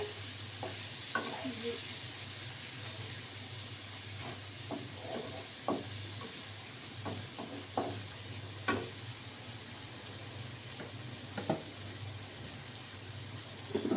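Garlic chicken frying in a pan, a steady soft sizzle with a low hum beneath and scattered light scraping clicks from stirring, continuous and fairly quiet.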